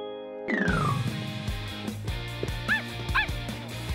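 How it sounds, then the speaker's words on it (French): A dog gives a couple of short, high yips and whimpering barks against a busy musical background, fairly close and clear. "Je suis sûre d'avoir entendu aboyer."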